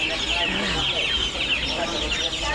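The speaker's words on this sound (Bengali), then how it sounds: "এই মুরগিগুলো অনেক বড় লম্বা হবে" Chickens clucking at a poultry and pigeon market stall, steady overlapping calls mixed with crowd murmur and voices close by.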